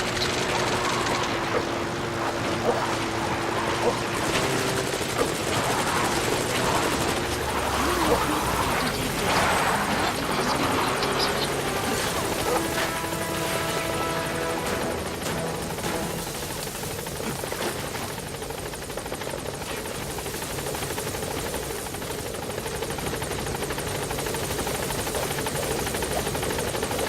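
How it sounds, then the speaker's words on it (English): A support helicopter from the video game The Phantom Pain hovers at a landing zone, its steady rotor and engine drone filling the scene continuously, with game effects layered over it. "Support helicopter has arrived."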